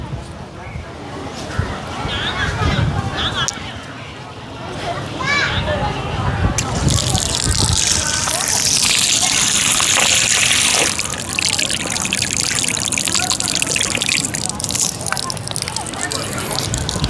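Blessed water running at St. Anne's Church in Thalawila, a continuous splashing flow that grows brighter and louder partway through, with people talking nearby and a busy crowd in the background.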